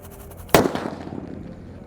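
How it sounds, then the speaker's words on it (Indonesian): A single sharp firecracker bang from a "disco happy flower" firework bursts out after a brief quiet moment, followed by crackling that fades away. "ada mercon disco Laplaptor, disco happy flower"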